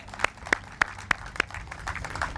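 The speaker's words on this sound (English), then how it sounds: "So give a round of applause for Mr." Hands clap at the Douglass School ceremony: five sharp, evenly spaced claps close by, followed by a soft, low crowd murmur.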